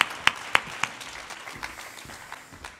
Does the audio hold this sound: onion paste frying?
no